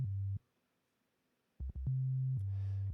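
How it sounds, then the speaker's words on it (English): Synth bass line for a lofi song with a robotic feel: clipped, buzzy tones that stop, fall silent, stutter back in short pulses, then hold steady, with a brief noisy burst near the end. "The regular bass line, the core bass line sounds like this."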